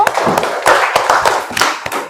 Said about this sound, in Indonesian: Tepuk tangan dulu untuk kelompok bunga sepatu